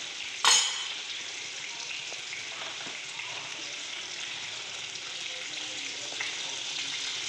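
Potatoes and onions fry in a pan for a fish curry, giving a continuous close sizzle with a brief louder burst near the start as more goes into the oil.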